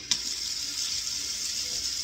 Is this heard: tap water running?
yes